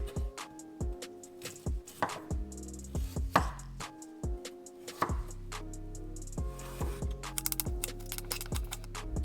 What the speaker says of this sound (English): Now I'm going to cut the ginger, add some in to the smoothie, let's cut it down, take off all the skin.